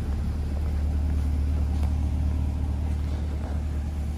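A 2020 Corvette 2LT Z51 coupe idles steadily nearby, its engine giving a deep, even low rumble with no revving and no voices.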